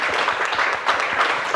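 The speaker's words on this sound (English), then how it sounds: "Give yourself a big round of applause" A seminar audience breaks into brief, dense applause, many hands clapping together at close range for a second or two.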